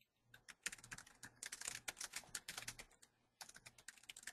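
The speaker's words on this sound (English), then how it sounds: "your phone is unmuted, so we can hear typing" Rapid, irregular keystrokes clatter on a computer keyboard, picked up faintly through an unmuted phone on a call, with short pauses between bursts of typing.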